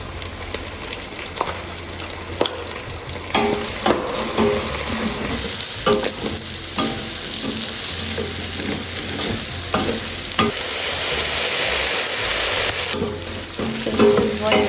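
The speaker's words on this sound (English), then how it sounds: "I've just fried it in a pan with oil. I'm going to add the onions." Onions hit hot oil in a pan with meat already fried in it, giving a steady, close sizzle broken by stirring scrapes and clinks throughout, with no talking.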